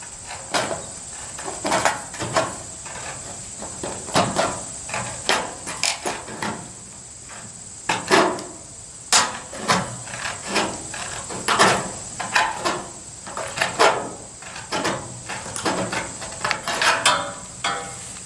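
Tin snips cut through metal roofing and siding sheet in a steady series of sharp, close crunching snips and metallic clicks, with the sheet rattling between cuts. No one speaks.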